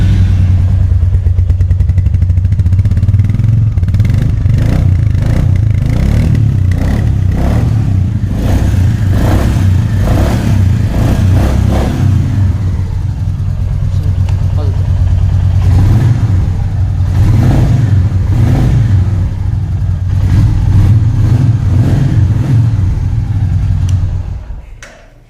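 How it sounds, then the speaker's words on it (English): A Royal Enfield Meteor 350 single-cylinder motorcycle idles steadily after starting, its low thumping exhaust note running close and loud, with a few brief throttle blips, for about twenty-four seconds before cutting off. "Let's start the bike and let's check the exhaust note."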